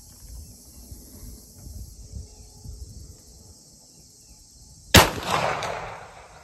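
A single sharp, loud gunshot from a bolt-action ATL OPP rifle chambered in 300 Blackout cracks out after several seconds of quiet outdoor ambience with insects, then rings off in a decaying echo.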